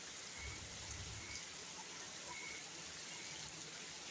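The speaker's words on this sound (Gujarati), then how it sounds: "વરસાદ તો આવે જ છે હજી." Steady rain falls in a dense, even hiss that continues without a break, with a faint low rumble briefly underneath, moderately distant.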